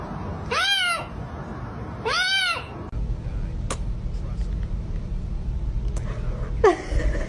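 A cat gives three clear, drawn-out meows, two close together early and a third near the end, over steady background noise.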